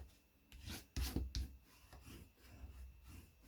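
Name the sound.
folding and burnishing cardstock for a card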